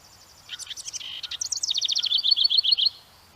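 A house wren sings from bushes along a Kentucky migration route, close and loud: a burst of bright chattering notes that runs into a rapid, evenly pulsed trill, alone and lasting a few seconds.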